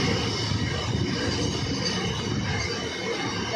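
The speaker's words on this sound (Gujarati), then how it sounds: "electric locomotive container" An electric locomotive hauling a container freight train rumbles past at close range, a steady broadband roar with low rolling clatter that holds loud and even throughout.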